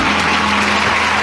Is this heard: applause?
yes